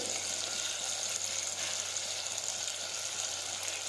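Cumin and ground spices drop into hot oil for a potato curry, giving a dense, even sizzle and crackle that stays loud and close throughout, with no voices over it.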